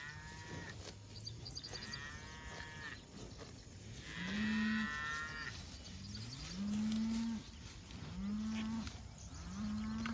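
Cattle moo repeatedly on a farm, with several long, drawn-out calls from a herd in good condition at moderate distance, some louder and nearer than others, over faint outdoor background.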